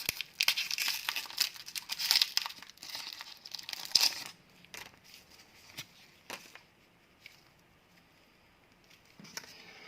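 A Pokémon card booster pack torn open roughly by hand, with crisp crinkling and ripping foil bursts over the first four seconds, then scattered softer rustles and handling sounds close to the microphone.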